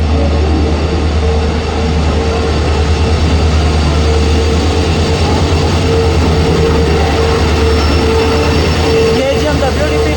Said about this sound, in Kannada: KGM WDP ಕೋಟಿ ಜೊತೆ ಬರ್ತಾ ಇದೆ ನಮ್ಮ ಚಂಡೀಗಢ ಯಶವಂತಪುರ ಸಂಪರ್ಕ ಕ್ರಾಂತಿ